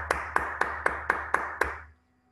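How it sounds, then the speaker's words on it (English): Seven sharp hand claps in a classroom, evenly spaced and fairly close, ending abruptly with the room falling quiet; the clapping sounds like a small group of students in near unison. "I can see that other students are clapping their hands for you"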